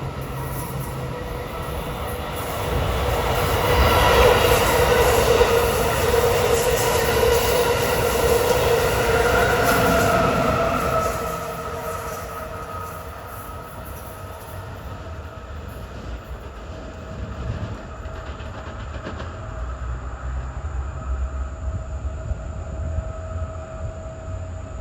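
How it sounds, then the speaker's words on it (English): Amtrak train 653, running from New York to Harrisburg, rolls past with a steady rumble that swells loud and then fades, its wheels squealing faintly, with no talk. "Here comes Amtrak 653 from New York to Harrisburg at 6:56."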